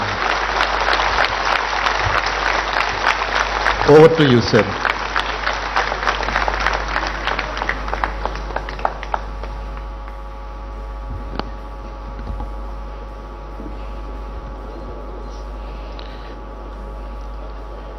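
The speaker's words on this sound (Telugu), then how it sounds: "give a grand grand grand round of applause" A large audience applauds at the inauguration of a court building complex in Warangal, with dense clapping that swells in the first few seconds and then thins to scattered claps and room hum, followed by a brief spoken handover.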